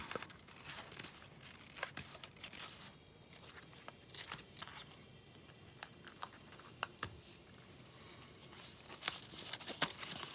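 Scissors snipping through a paper model's two elevators together, a string of small close cuts and paper rustles with no talk.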